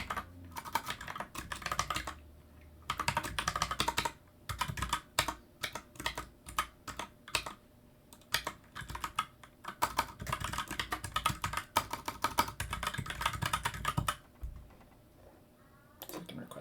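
Someone types on a computer keyboard in quick, irregular bursts of close clacking keystrokes, broken by short pauses, with a few heavier key presses.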